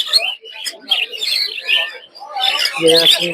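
Diamond doves at the Mirpur 1 bird market chirp in quick, bright bursts, mixed with the busy chatter of a crowded market and a voice near the end.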